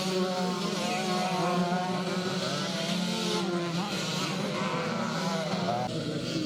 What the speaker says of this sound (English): a good gaggle of 125 screamers for this Twin Shock A and Twin Shock B class race